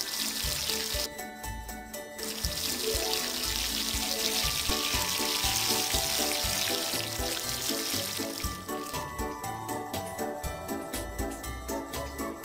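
Running water splashing over a pet in a children's animal-care video game, a steady bright rushing stream layered with a looping musical background throughout.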